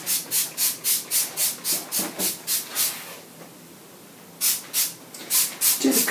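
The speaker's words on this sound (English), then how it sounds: "Make sure you spray the cupboards if you've got cupboards like this." Rapid bursts of a spray bottle trigger spraying cleaner onto cupboards, about a dozen quick hissing squirts in a steady rhythm, a pause, then several more squirts close by.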